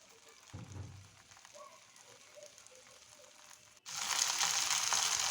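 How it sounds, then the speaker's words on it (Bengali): Hilsa fish wrapped in taro leaves hits hot oil in a frying pan, a soft thump and faint crackle at first, then a loud, steady hiss of sizzling that swells abruptly and holds. "এখন কচুর পাতার মুড়ানো ইলিশ মাছ দিয়ে দিচ্ছি ফ্রাই প্যানের মধ্যে"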